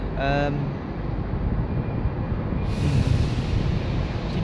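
Rumbling train noise with an early rising electric whine, the steady hum of a train idling or moving slowly at Edinburgh Waverley station.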